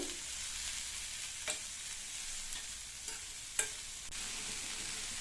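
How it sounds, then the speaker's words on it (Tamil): Chopped snake gourd stirred in a frying pan, a steady soft sizzle with a few sharp scrapes and clicks of the spoon against the pan, close and moderately quiet, no talking. "கட் பண்ணி வச்ச புடலங்காயை இதில் சேர்த்துட்டு நல்லா ஒரு தடவை இந்த மாதிரி கலந்து விட்டுட்டு"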